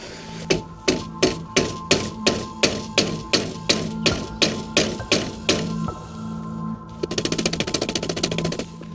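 Sharp metallic taps from a chisel being struck ring out in a steady series of about a dozen evenly spaced hits during do-it-yourself car maintenance, then give way to a quicker rattling burst of light knocks near the end.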